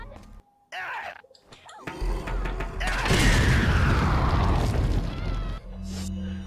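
A heavy, booming grenade explosion in Resident Evil 4 erupts after some clatter and mechanical noises, its rumble rolling on for a couple of seconds before fading.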